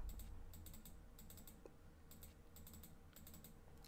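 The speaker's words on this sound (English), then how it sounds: "Lots and lots of clicking." Computer keyboard keys and mouse buttons clicking in rapid bursts during a farming simulation game session, quiet and close, with short pauses between clusters of taps and no talking.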